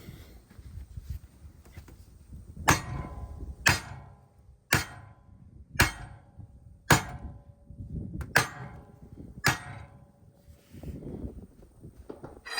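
Eight loud metallic hammer blows ring out on a jack during adjustment of an MRB's depth, struck at a steady pace about a second apart, close by, with a low background rumble in between.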